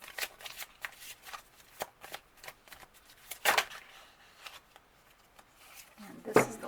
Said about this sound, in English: we're going to start first by pulling a card from the Oracle